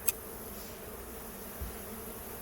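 Honey bees droning around an opened backyard hive during an inspection while burr comb is scraped away, a steady low hum throughout with one faint tap near the start.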